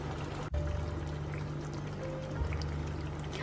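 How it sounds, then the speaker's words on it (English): Hot water pours into a pot of curry in a continuous, gentle stream after a brief click, steady and close for the whole few seconds. "add in a quarter cup of hot water if your water has evaporated"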